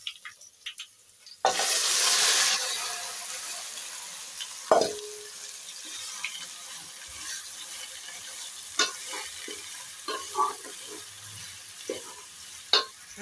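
A sudden loud burst of sizzle as spices hit hot oil in a pressure cooker, settling into quieter crackling with scattered clinks and stirring sounds.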